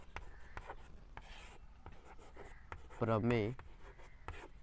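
Chalk or marker strokes scratch across a classroom board during a Hindi-medium maths lesson on trigonometry, short rubbing squeaks scattered through the clip while a teacher keeps talking.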